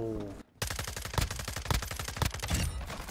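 FSS Hurricane submachine gun fire in Call of Duty: Modern Warfare II, a rapid automatic burst of loud close shots after a brief pause, with a voice talking over it.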